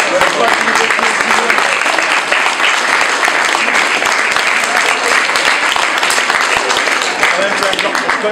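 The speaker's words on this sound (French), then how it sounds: "On peut l'applaudir." A museum audience claps steadily for the whole stretch, a dense and even wash of applause from many hands, close and loud.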